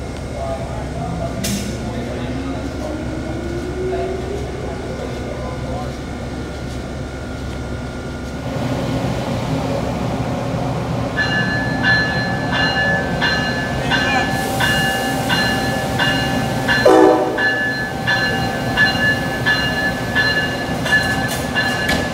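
An Amtrak Carolinian train arriving at Washington, D.C. fills the space with a steady loud rumble and rolling rail noise, shifting tones of braking and wheel squeal, heard from on board as an announcer speaks over the PA.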